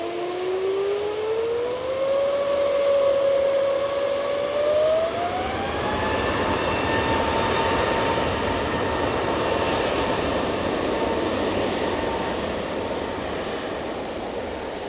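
A TUI jet airliner arriving at Manchester Airport, its loud engine roar rising in pitch as it passes close, then settling into a broad, sustained rumble with no talking.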